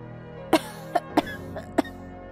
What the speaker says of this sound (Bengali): কাশিটা তো কমছে না